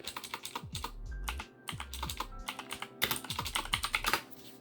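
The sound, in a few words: typing a command on a computer keyboard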